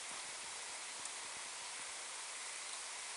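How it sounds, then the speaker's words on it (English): Steady rain falls during a summer thunderstorm in Dublin, Ohio, a soft even hiss with scattered faint drop ticks, fairly quiet and continuous with no voices. "The rain is calming down now. But it's still kind of thunderstorming."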